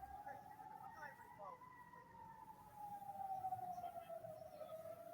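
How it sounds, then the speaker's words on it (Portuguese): An air-raid siren in Israel wails steadily at a distance during an Iranian missile attack, its tone slowly sliding, over a low rumble of ambient noise. "Acho que dá para ouvir o barulho da sirene tocando."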